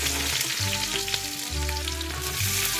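Curry leaves and green chilies frying in hot oil make a dense, continuous close sizzle with fine crackling throughout and a low hum beneath, and no voices.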